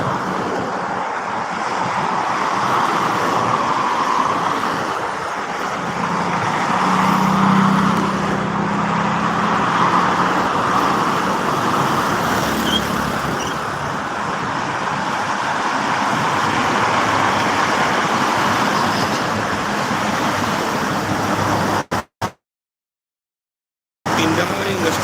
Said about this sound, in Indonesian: Masih ramai sama truk.